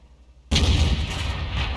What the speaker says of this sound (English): he's blind firing the bushes just in case he can get one of the enemy light tanks